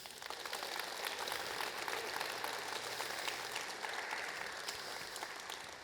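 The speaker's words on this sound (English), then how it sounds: "I want you guys to give yourselves a round of applause." A live event crowd at Full Throttle 2025 gives a sustained round of applause, steady dense clapping that fills the room for several seconds.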